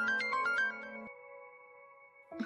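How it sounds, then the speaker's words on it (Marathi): A phone ringtone plays in a domestic TV-serial scene, a short bright melodic phrase of quick notes followed by a sustained fading tone, clear with no talk over it. "फोन आले."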